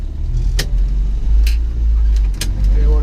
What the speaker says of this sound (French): Et voilà, démarrage en côte facile.